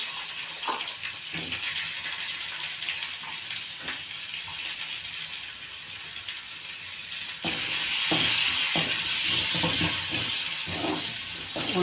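Loud, continuous sizzling of chopped onions frying in hot oil, with occasional stirring clicks and a surge of crackle partway through.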